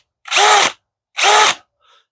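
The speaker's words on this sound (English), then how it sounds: "So you can hold on to it and use your drill" Power drill spinning a polishing pad on an aluminum wheel, two loud whirring bursts of about half a second each with a brief gap, then a faint short third whir, close up.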